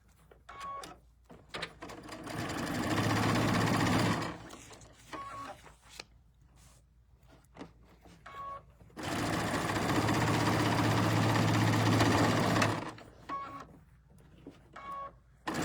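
A sewing machine stitches quilt block seams in two long, steady runs of rapid whirring, separated by quiet pauses with faint handling noises and brief clicks.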